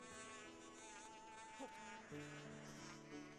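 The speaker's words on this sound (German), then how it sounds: "Bienen, Bienen, Bienen." Bees buzzing in the video game The Legend of Zelda: Skyward Sword HD, a steady, droning insect hum close by that overlaps sustained game music tones throughout.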